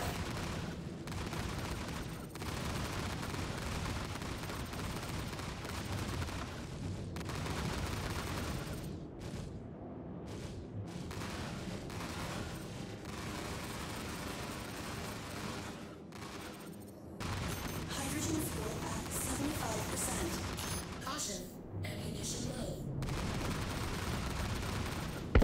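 Dense, sustained ship ballistics gunfire in a space battle video game, a continuous loud barrage of overlapping shots and booms with brief lulls, no talking.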